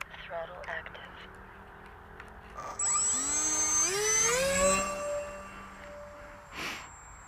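The electric motor of a Reptile Dragon 2 RC plane under throttle gives a thin, high whine that sweeps up and down in pitch in the middle section, over faint background noise, with a brief gust near the end.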